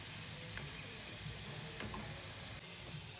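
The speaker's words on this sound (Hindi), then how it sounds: "इसके अंदर अब मैं ज़ीरा शामिल करती हूँ और ये लाल मिर्चें" Cumin seeds and dried red chilies sizzle in hot oil alongside garlic and ginger, a tempering for whole masoor dal. The frying hiss is steady and close throughout, with faint stirring clicks.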